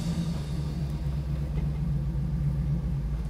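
A V8 Corvair drag car engine rumbles with a steady, deep, loud idle throughout, with no voices over it.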